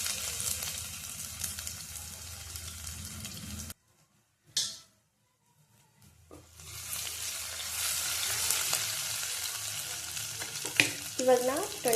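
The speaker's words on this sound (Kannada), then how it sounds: "ನಾನು ಶುಂಠಿ ಬೆಳ್ಳುಳ್ಳಿ ಪೇಸ್ಟ್ ಹಾಕ್ತಾ ಇದ್ದೀನಿ." Ginger garlic paste hitting hot oil makes a loud, hissing sizzle that cuts to near silence for a couple of seconds, then returns strongly with scraping stirs in the pan.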